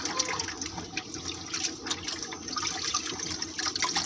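Taro leaves are washed one by one in water, with continuous close splashing and running-water sounds throughout.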